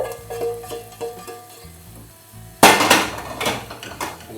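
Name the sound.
onions frying in a pan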